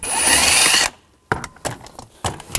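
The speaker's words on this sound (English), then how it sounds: "Using a 7mm socket, a long extension, take this bolt out." A bolt being removed with a 7mm socket on a long extension during a tow mirror install on a 2014-2018 GMC Sierra 1500, heard as a loud, steady power-tool whir that stops abruptly, followed by several short clicks and knocks nearby.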